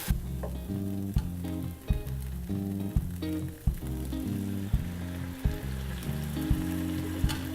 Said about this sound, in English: And you just continue to stir.